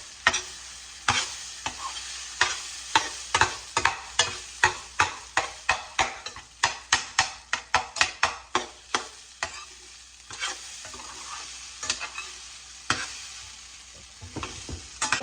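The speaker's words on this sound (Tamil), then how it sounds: "கொஞ்சம் கிண்டினா நல்லா உதிராக வந்துடும்." A spoon scraping and stirring ground coconut-lentil paste for paruppusili in a frying pan, about two dozen sharp rhythmic scrapes and taps over faint sizzling, close and clear with no talking.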